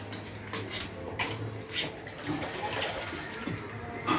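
Freshly washed grated bottle gourd is squeezed by hand in a village kitchen, water trickling and splashing continuously into a kadhai at low, even volume.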